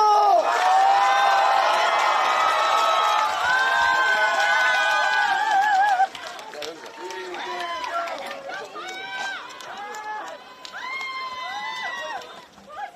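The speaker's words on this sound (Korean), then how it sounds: "여러분, 다시 한번 함성을 함께 해주십시오." A packed campaign-rally crowd in Gongju, South Chungcheong, roars and shouts loudly and continuously, then breaks into scattered chants and raised voices as the cheering subsides.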